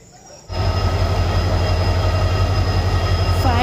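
At a railway station a train rumbles in loudly and close after a brief quiet start, with its heavy, continuous roar and wheel noise filling the rest of the clip.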